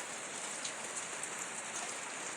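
Steady rain falls and patters on surfaces with an even, constant hiss and fine drop detail, close and unbroken throughout, at an off-grid nomadic camp.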